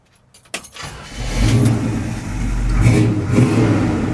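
A 1971 Chevrolet Custom 20 pickup truck engine with dual exhaust cranks and fires up at close range, then settles into a loud, rumbling idle with a couple of light revs.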